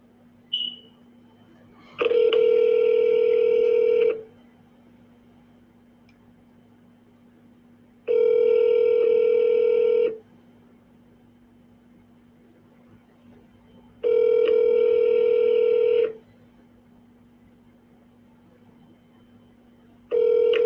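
Phone ringback tone repeating while calling a mortgage office: four loud two-second rings spaced about four seconds apart over a steady low hum, no talking.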